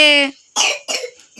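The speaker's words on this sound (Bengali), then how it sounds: "দেখ কি কাশি হয়েছে দেখ" A person lets out a short voiced sound, then gives two close, rough coughs in quick succession, heard up close in a quiet home.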